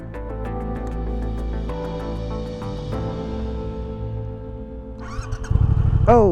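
A motorcycle idles then pulls away in first gear, a loud close engine rumble that climbs into a revving rise near the end.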